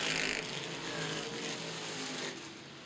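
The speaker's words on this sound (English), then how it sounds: "Lane looking for the 8th spot on the inside of Schaefer, turns 3 and 4" Stock cars race at Winchester Speedway, engines roaring loudly as they pass close by, the sound swelling and then easing slightly.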